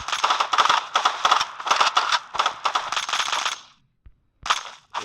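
AK assault rifle firing in GTA IV, long rapid automatic bursts loud and close, a brief silence, then another short burst.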